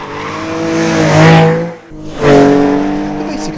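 A modified green Porsche 911 sports car built on an old 911 shell drives past loudly, its engine revving up, dipping briefly as it shifts, then climbing again in strong rising tones, with no talk.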